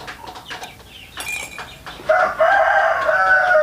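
A chicken suffering from a respiratory cold or snoring illness calls out loudly and close by, starting with scattered short clucks and rising into a sustained, strained crowing cry.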